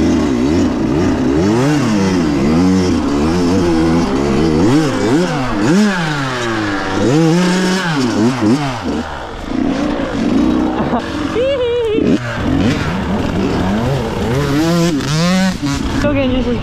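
A KTM 250 XC two-stroke dirt bike being ridden on a practice track, its engine revving up and down in loud, continuous rising and falling sweeps close by, with brief throttle chops between bursts.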